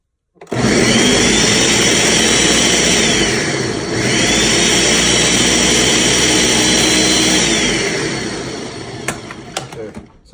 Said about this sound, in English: So here it is, going in the blender, pop it on.